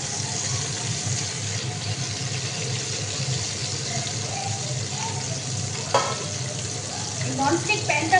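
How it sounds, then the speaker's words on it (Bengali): A large fish fries in a nonstick pan in a home kitchen, giving a steady close sizzle throughout, with a few louder spits and clinks toward the end. "এত বড় মাছ না ভাজা যায় না"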